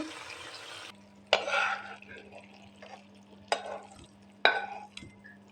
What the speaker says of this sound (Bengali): ডিম দিয়ে ভালো করে নাড়াচাড়া দিয়ে দেবেন দেখুন আমার ডিম ভুনাটা শেষ একদম তেল উঠে আসছে